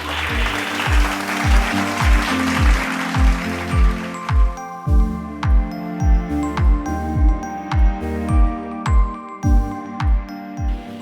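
A church congregation claps during a sermon, a broad wash of hands over the first few seconds, followed by music with a steady booming beat and bright tinkling notes.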